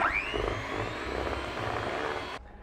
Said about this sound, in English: I do have the oven on in the background whirring away